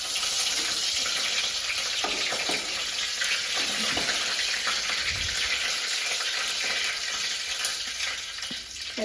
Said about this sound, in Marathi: आता आपण तेल टाकलंय. आपण कढीपत्त्याचा तडका देणार आहे.